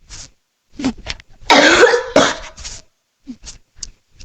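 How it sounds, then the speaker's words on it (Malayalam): A person coughs in several sharp, harsh bursts, one long hacking fit in the middle, with short breaths and pauses between, close and loud. "ദിസ് ഈസ് വില്ലൻ ചുമ"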